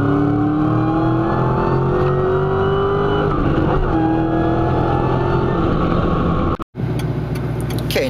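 A car with water-methanol injection accelerates hard through a full pull, its engine note climbing steadily in pitch under load, loud and continuous, then dropping away abruptly before resuming.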